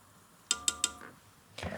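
A metal teaspoon measuring vanilla for almond panna cotta, three quick bright clinks against a container followed by a soft scrape and a faint rustle, close and quiet.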